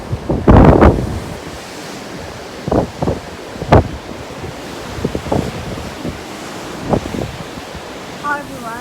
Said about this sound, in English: The sea was a bit choppy that day, but it was great.